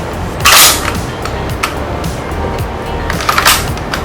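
An airsoft gun with a recoil mechanism fires a few sharp, close cracks, one early burst and a cluster near the end, over steady low background noise.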